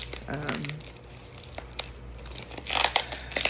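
Hands tearing open a package without scissors, with close crinkling and ripping of plastic packaging in short irregular bursts that grow louder toward the end.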